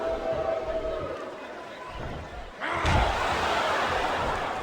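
Crowd chanting at a wrestling event in Smackdown Vs Raw 2007 forms a steady, dense roar that swells noticeably louder partway through, with voices talking over it.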